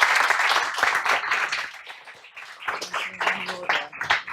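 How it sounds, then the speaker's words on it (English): A conference audience at a livestreamed event on artificial intelligence and the future of work claps loudly for a couple of seconds, then the applause thins as people start talking nearby. "Do give them a big round of applause."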